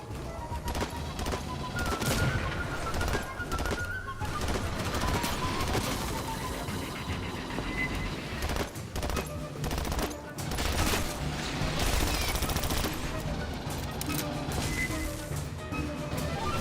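Rapid gunfire fills a session of the Aliens: Fireteam Elite video game. Dense bursts of shots run almost continuously, mixed with mechanical clatter and impacts.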